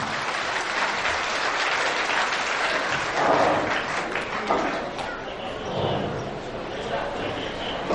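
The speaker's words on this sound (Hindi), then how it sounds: "तालियों के साथ स्वागत कीजिए डॉक्टर रमन सिंह।" An audience at an Urs gathering at a shrine breaks into sustained applause welcoming Dr. Raman Singh, a dense wash of clapping that swells and then thins slightly, with scattered voices in the crowd.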